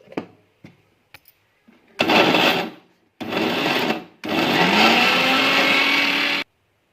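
After a few light knocks, a mixer grinder grinding tamarind and salt into a spice paste whirs loudly in three bursts, the last one longest, its motor pitch rising as it runs.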